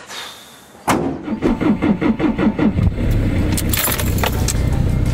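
A camper van's starter motor cranks in a quick, regular chugging rhythm of about ten strokes without the engine catching, then a rough running rumble follows, close and loud.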